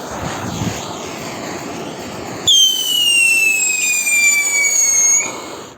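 A flower pot firework fountain goes off outdoors in daytime, a loud continuous whistling screech with crackling hiss that holds for about three seconds before cutting off, following a steady background rush.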